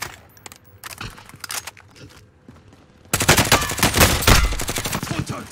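Video game gunfire crackles in scattered shots, then erupts into loud, sustained automatic bursts that rattle on rapidly to the end.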